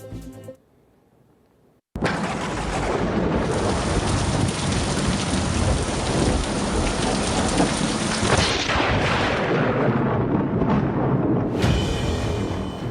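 Heavy rain pours down hard and steadily during a downpour in India, with rumbling thunder rolling underneath for about ten seconds after a brief quiet opening, loud and close, easing near the end; no speech.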